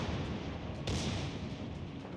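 Secondary guns firing in a naval video game: a dense, continuous rumble of distant gunfire with one sharper burst near the middle, steady and fairly faint throughout.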